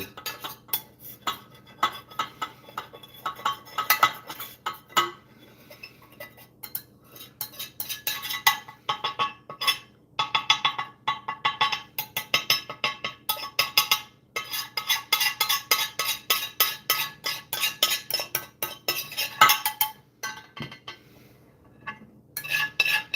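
Metal tool scraping and clinking against a dish while an alchemy material, gold in the middle and whitish at the edges, is worked loose. The scrapes and taps come in irregular bursts, close and moderately loud, with brief pauses.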